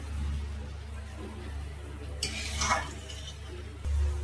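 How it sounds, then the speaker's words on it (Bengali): Chilli chicken stirred in a pan after vinegar and water are poured in, with a soft wet scraping and light bubbling sizzle over a low hum, ending in a brief clank. "পরিমাণ মতো জল দিয়ে দিতে হচ্ছে। হালকা করে নাড়িয়ে"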